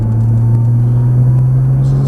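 A Nissan GT-R on a Las Vegas race track, heard from inside the car as a loud, steady engine drone with a strong low hum, sustained and even with no clear rise in revs.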